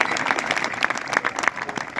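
An audience claps at a Hindi poetry gathering held by a national farmers' and labourers' federation, a short burst of lively, uneven applause with distinct individual claps popping through the crowd sound.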